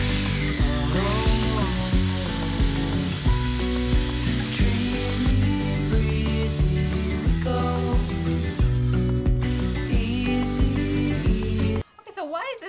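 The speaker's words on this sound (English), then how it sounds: "why is this miter saw so much better than mine?" Miter saw cutting new wood trim boards for bifold doors indoors, loud whining bursts of the blade biting through wood with brief lulls between cuts, then a sudden stop.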